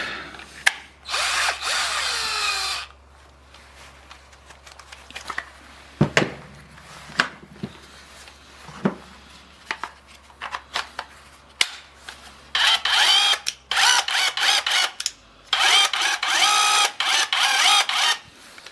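A cordless impact wrench, just repaired with a replacement circuit board, runs in repeated loud bursts separated by clicks, handling noise and short pauses, close up with no talking.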